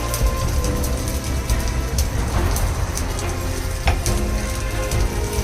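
Garlic and ginger paste sizzling in a hot pan, a loud, steady crackling hiss that carries on unbroken with a few sharper pops.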